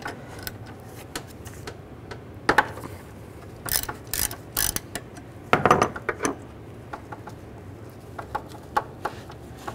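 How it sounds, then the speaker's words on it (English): A ratchet with a 13 mm socket backs off the battery positive cable nut on a 2006-2012 Ford Fusion during alternator replacement, giving irregular bursts of close metallic clicking with short pauses between them. "Use a 13 millimeter socket,"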